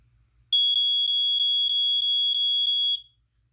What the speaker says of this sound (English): it does the classic slow 4-6-5-6 sound